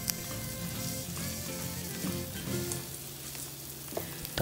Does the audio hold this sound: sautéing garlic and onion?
yes